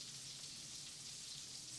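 Steak frying in butter in a pan gives off a steady, even sizzle, a soft continuous hiss with no breaks, fairly quiet and heard alone.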